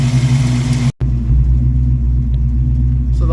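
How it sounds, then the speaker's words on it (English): A Ford 302 V8 idles at about 900 RPM, a loud, steady low rumble with an even pulse, cut by a brief dropout before resuming unchanged. "It's holding a healthy 900 RPM idle, and I haven't adjusted anything."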